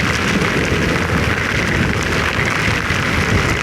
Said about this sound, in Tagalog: Dapat ganyan kalakas yung ulan.